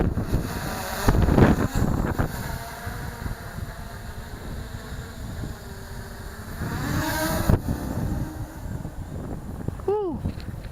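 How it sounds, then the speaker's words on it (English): Strong wind blows past the microphone outdoors, making a continuous rough rumble that swells and fades in gusts. The faint whine of a small toy drone's motors and bursts of a person talking come through over it. "the wind is pushing it back without me doing nothing to it"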